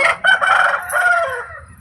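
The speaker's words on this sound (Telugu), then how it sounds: "మా కోళ్ళు అరుపుతానే ఉన్నాయి పొద్దు పొద్దున్నే" A rooster crows loudly and close by, one long drawn-out call that rises and then trails off, with other fowl faintly in the background.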